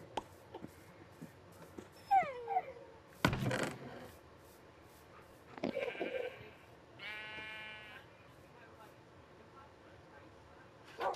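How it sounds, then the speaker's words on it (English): A sheep bleats inside a house in the video game Minecraft, its wavering cries coming in a few separate bursts amid clicks, scuffs and other game sounds. "Apparently, a sheep decided to be in my house for some reason."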